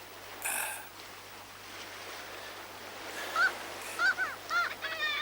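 Goose-like birds honking, several loud nasal calls clustered near the end after a single earlier honk, over a quiet low hum and faint water-like background.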